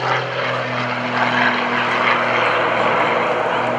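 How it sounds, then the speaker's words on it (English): Propeller airplane flying aerobatics at the 2014 Greenwood Lake airshow, its engine a steady, loud droning hum held close and constant throughout, with faint talk over it. "Mike Wiskus likes to keep this airplane up close and personal"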